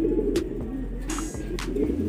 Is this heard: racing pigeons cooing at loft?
yes